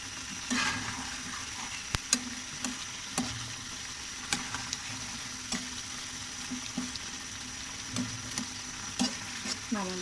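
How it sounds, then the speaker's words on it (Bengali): Chicken pieces with cucumber, seasoned only with salt and ground black pepper, sizzle steadily in a pan while a utensil scrapes and clacks against it in irregular sharp knocks over a continuous frying hiss. "শশা দিয়ে মুরগি রান্না করতেছি"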